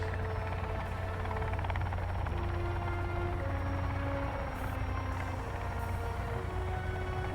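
Helicopter in the video game Sons of the Forest, a steady rotor and engine drone held continuously and fairly loud, with a low throbbing hum under shifting tonal lines.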